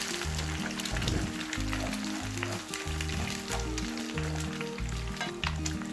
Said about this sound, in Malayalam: എണ്ണ ചൂടായതിന് ശേഷം ഇതിലേക്ക് മുട്ട പൊട്ടിച്ചൊഴിക്കാം.